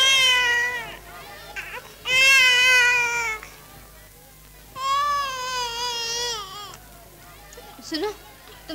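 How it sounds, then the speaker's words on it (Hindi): An infant crying in a scene from a classic Hindi film, with loud wailing bursts that rise and fall in several long cries and brief gaps between them. "सुनो, तुम्हारा बच्चा रो रहा है।"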